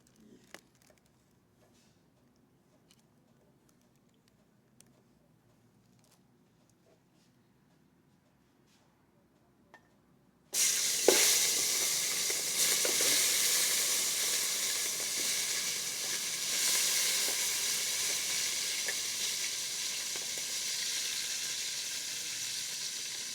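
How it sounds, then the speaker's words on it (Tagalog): Vegetables dropped into a hot pan burst into loud, close sizzling after about ten seconds of near silence with faint clinks, then frying hisses steadily and evenly to the end. "Igigisa na po natin ang ating gulay."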